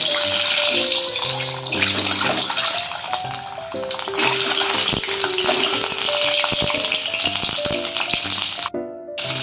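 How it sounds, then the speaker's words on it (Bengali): Boiled eggs fry in hot oil in a pan, a loud, continuous sizzle and crackle with occasional rattling, fading briefly near the end, with no voices. "আমি এই তেলে সিদ্ধ ডিমগুলো ভেজে নেব।"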